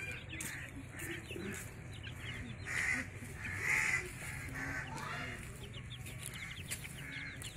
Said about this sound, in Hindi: मुर्गी और उसका चूचा।